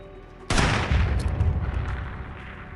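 A single loud sniper rifle shot cracks out in the mobile game Sniper 3D Assassin after a quiet lead-in, its boom rolling on and decaying over the following seconds, with no talk.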